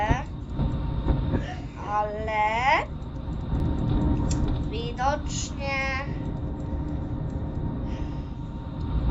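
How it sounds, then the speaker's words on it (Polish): A steady, loud rumble of a passing express train in Warsaw fills the whole clip while a person talks over it. "widzicie, że to jest ekspresowy pociąg"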